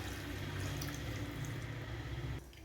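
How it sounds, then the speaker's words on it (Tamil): Three-quarters of a cup of water is poured into a pan holding a cup of sugar for a badusha syrup, making a steady, faint splashing pour that stops abruptly near the end, with no talking. "இப்போ இதில் 3/4 கப் அளவுக்கு தண்ணி ஆட் பண்ணிக்கிறேன்"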